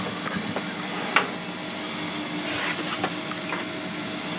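Machinery hums steadily in the engine room of the Solaris 111 superyacht CeFeA, a broad constant drone broken by a few light clanks and taps nearby.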